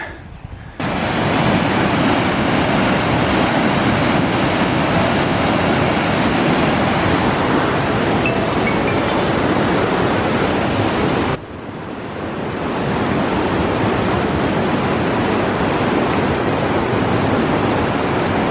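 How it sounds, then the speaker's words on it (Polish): Loud, continuous roar of the swollen Tabor river in flood at Rymanów-Zdrój, Poland, a dense unbroken wash of noise that briefly dips and then surges back. "nie wiem czy mnie słychać dobrze przez ten szum no woda"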